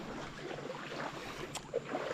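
A fast motorboat passes over open water near a fishing village, and its motor drones steadily under wind and water noise, moderately loud and some distance away.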